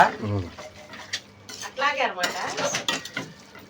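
Utensil scraping and clinking against a pot as keema curry is stirred and mixed, with irregular close metallic scrapes and taps; a voice talks over part of it.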